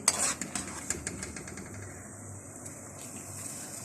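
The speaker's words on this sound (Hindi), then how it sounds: "जब तक इसका कलर नहीं चेंज होता आपने इसको चमचा चलाते जाना है, इसको हिलाना है।" A spoon stirs tutti frutti mixture in a pan, giving a soft, steady scraping with faint sizzle and a few light clinks near the start, no voices.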